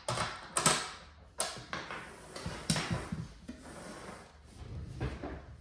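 A new BillConch safe is opened, giving a series of close mechanical clicks, knocks and sliding rubs from the door and packing, in separate bursts with quiet gaps between them.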